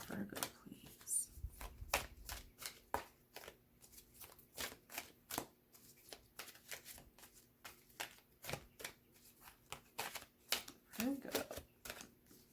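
Oracle cards are shuffled in repeated crisp riffles and flicks, steady bursts close to the listener, with a voice speaking quietly between them.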